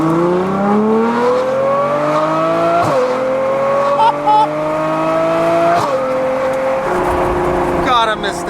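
A Ferrari engine revs loudly at cold start, high idle pitch climbing and holding with sharp blips, close and overpowering.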